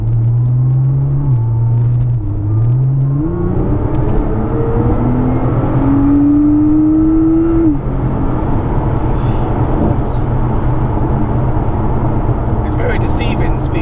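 A Litchfield-tuned Nissan R35 GTR heard from inside the cabin, its engine droning loudly and climbing in pitch through several gear changes, then settling into a steady low rumble with road noise.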